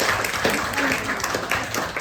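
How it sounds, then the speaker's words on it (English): Audience at an event in a governor's mansion clapping, a short, dense burst of applause from a moderately sized crowd, close and steady. "So can we have a round of applause?"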